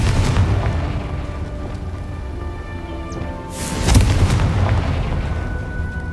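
A Confringo fire spell from the Hogwarts Legacy video game bursts in a single loud boom midway through, rising out of a steady tonal game background and fading into a lingering rumble.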